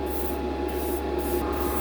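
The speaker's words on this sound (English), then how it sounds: "So that's painting really nice. Spraying out real even." Steady close hiss of an airbrush spraying enamel paint, continuous with slight pulsing in its brightness, no voices.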